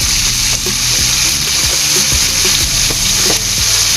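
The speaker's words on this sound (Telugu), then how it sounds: "గ్రీన్ పీస్, బంగాళదుంపలు అన్నీ కూడా కళాయిలోకి వేసుకొని లో ఫ్లేమ్లోనే ఉంచుకొని" Onions, green peas and potatoes fry together in a kadai over a low flame, making a loud, constant sizzle broken by frequent stirring knocks and scrapes, with no talking.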